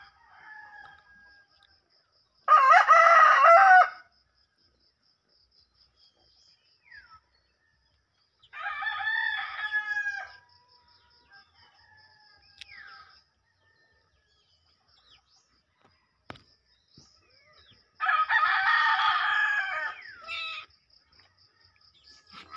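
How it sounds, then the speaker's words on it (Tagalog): Outdoors, a rooster crows three times in separate loud bursts spaced apart, with faint clucking and quiet pauses between them. "Hinahabol talaga siya ng manok."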